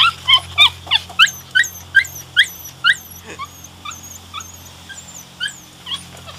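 A dog on a trip in Canada lets out a rapid series of high, sharp yips and whimpers, close and excited at first, then softer and more scattered whining, with no talk over it.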